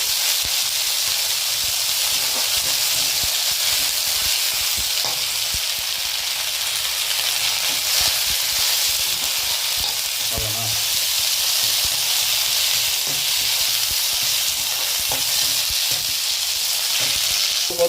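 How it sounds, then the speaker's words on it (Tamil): Steady, loud sizzling of curry leaves frying in hot oil, a continuous crackling hiss throughout with a few brief soft clinks partway. "இது எவ்வளோ வதக்கணும்? சும்மா சலசலப்புன்னு சத்தம் அடங்குற வரைக்கும்."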